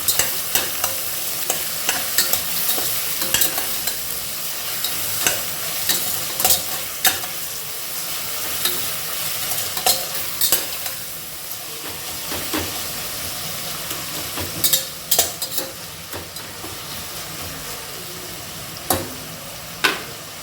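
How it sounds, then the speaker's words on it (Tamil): Onions with a little salt sautéing in a pan for mushroom biryani, a steady sizzle broken by frequent scraping stirs and spoon knocks, close and alone with no talking. "எல்லாத்தையும் நல்லா வதக்கி வச்சிடலாம்."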